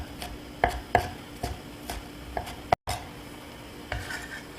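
Knife chopping green onion on a cutting board at a cooking exam station, a loose series of quiet, crisp taps, some sharper than others, close with light room noise and no talk.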